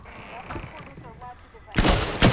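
Gunfire in the PS4 tactical shooter Firewall Zero Hour on the Dark Web map: after a stretch of murmured voice, a loud broadband burst of shots erupts near the end, followed by another sharp report.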